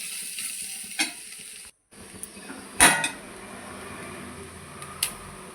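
Ash gourd peel frying in a pan: a steady close sizzle under sharp scraping stirs, with a brief gap of silence and a few louder clanks.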